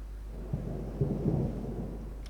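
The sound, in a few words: thunder in video game Ultimate Admiral Dreadnoughts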